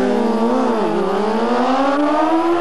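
Racing motorcycles scream along a track in a Brazilian national motorcycle speed championship, a high engine wail dipping briefly then rising steadily as a bike passes close and loud.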